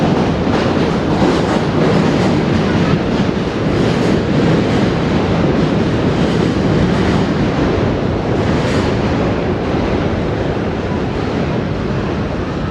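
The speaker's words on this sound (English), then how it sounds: "It's the subway" A continuous loud roar of a New York subway train rumbling over the Manhattan Bridge, with rattling wheels and metallic clatter sustained throughout.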